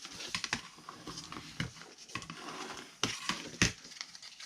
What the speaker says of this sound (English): I have my 2 by 12 inch piece, and I'm basically folding it into thirds